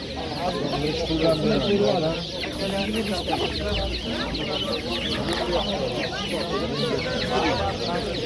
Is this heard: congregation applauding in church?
no